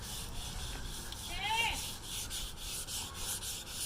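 Sandpaper rubbed by hand across a car hood's metal surface during restoration, a steady close scraping texture with a brief squeaky streak midway, no talking.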